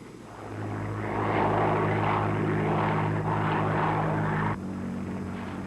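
A propeller airplane drones overhead, a loud steady buzzing engine hum that swells and holds, then drops off abruptly near the end.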